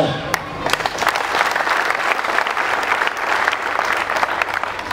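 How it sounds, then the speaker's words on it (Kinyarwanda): An audience applauds loudly and continuously for five seconds, a dense, even wash of many hands clapping that starts at once and holds steady. "mu nkundire dukomere amashyi nyakubahwa"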